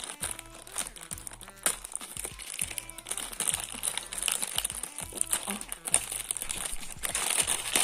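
A plastic toy blind-box packet is torn open and crinkled close by in busy, irregular rustles and crackles that continue throughout, with a voice speaking over part of it.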